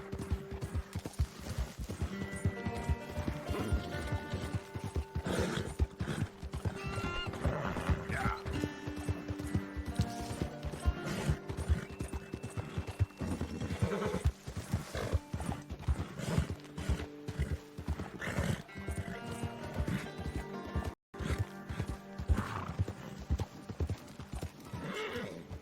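Horse hooves clip-clop in a steady rapid rhythm throughout a video game ride, with occasional whinnies and mechanical clicking layered beneath a continuous tonal backdrop.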